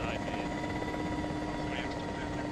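A helicopter in a tactical close-quarters combat video game drones with a steady, close rotor thrum that stays constant throughout, while voices talk over it.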